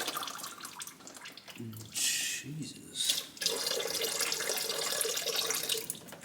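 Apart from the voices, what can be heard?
coolant pouring from car water pump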